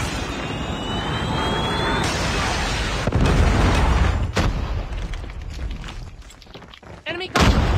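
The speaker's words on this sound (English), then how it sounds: "Predator missile inbound." A Predator missile strike in Call of Duty Mobile, played on an M1 iPad Pro: a loud, sustained game explosion and rumble with sharp bursts. Game voice callouts sound over it.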